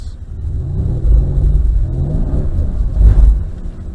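A Mercedes-Benz car accelerates on a driving track, its engine rumbling and revving close by with two surges in power, one early and one near the end, and no talk over it.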